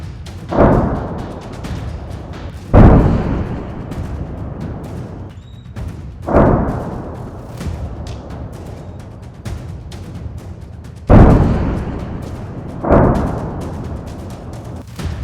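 Heavy booms from rocket and artillery fire in the Israel-Hezbollah conflict strike at irregular intervals, about five loud blasts with rumbling decay over a continuous low background roar.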